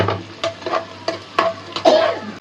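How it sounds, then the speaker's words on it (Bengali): Spice paste frying in a little oil in a pan for beef bhuna, with a low sizzle beneath about five distinct, rhythmic scraping strokes of a spoon, close and fairly loud. "এই যে পেস্টটা খুব সুন্দর করে ভাজা ভাজা হয়ে গেছে"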